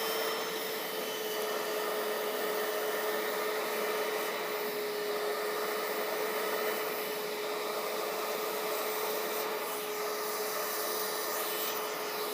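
Bissell Little Green ProHeat pet carpet cleaner running steadily, its motor a continuous whining hum with a hissing wash of spray and suction over carpet, close and even throughout.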